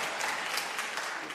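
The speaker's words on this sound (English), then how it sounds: "Actually, I thought I would get more applause" Brief applause from an audience at a public talk, a short burst of steady, fairly loud clapping with no voices over it.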